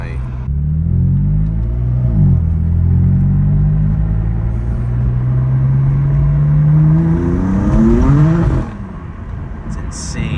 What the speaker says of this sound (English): I love when you let off and it just pops real hard, and that's stock too.